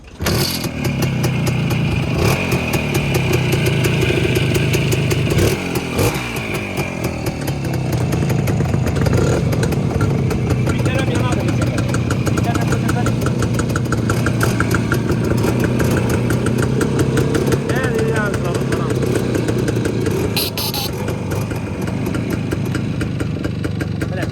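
A motorcycle engine at a motorcycle market in Gurlan district runs steadily up close for the whole stretch, idling with a clattery rumble and swelling in brief revs, while people talk faintly in the background.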